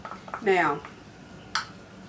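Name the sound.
stirring French onion beef and rice casserole in a pan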